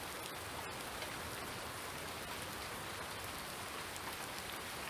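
Steady rain from a farming video game, Farming Simulator 2019, as an even hiss of falling drops, soft and constant throughout with no voices.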